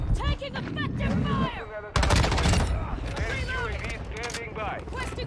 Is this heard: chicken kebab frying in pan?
no